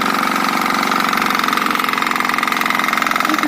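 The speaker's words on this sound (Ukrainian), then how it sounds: "Включаємо такі першу передачу, даємо обороти" An engine runs loud and close after being shifted into first gear for working soil mounds for grapevine seedlings, holding a steady throbbing drone with a rapid knocking pulse throughout.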